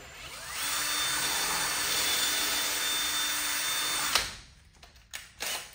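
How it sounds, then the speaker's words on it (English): A power drill whines steadily for about four seconds while drilling out threads in a Sea-Doo supercharger part, then stops, leaving a few clicks and handling noises. "So just gonna drill that out real quick."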